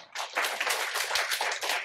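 A lecture audience breaks into brisk, close applause, many hands clapping densely and evenly for a couple of seconds without any talk.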